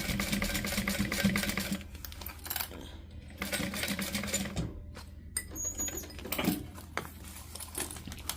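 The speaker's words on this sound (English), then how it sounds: "I'm going to top stitch across this seam at 1/8 of an inch" A sewing machine top stitches across a fabric seam at an eighth of an inch, running in close steady bursts with brief pauses for pivoting, plus a few light metallic clicks.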